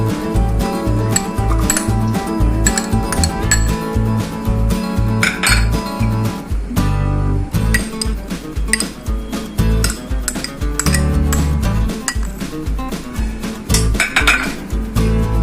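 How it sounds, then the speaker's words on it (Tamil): Utensils clink and scrape against a bowl as candied raw papaya pieces for tutti frutti are mixed together, a busy, close clatter running steadily with a short pause partway through, no talking. "இது எல்லாம் ஒன்றா ஒரு பவுலில் போட்டு நம்ம மிக்ஸ் பண்ணிக்கலாம்"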